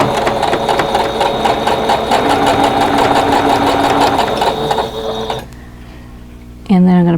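A sewing machine stitches quilt pieces together in a steady, loud mechanical whir that runs several seconds, then stops, leaving a quiet pause before a brief sound at the end.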